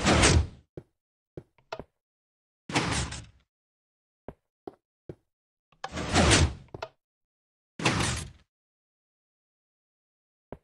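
Simple 3x3 piston and sand door from Minecraft 1.0.0 working in the game: four loud, broad whooshing bursts as the pistons push and retract, separated by sharp isolated clicks and taps, with no talking.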